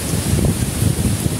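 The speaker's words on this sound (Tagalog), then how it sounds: "Malakas ng hangin." Strong wind buffets the microphone in a continuous gusty roar in bad weather at Donsol, Sorsogon, with rustling noise and no voices.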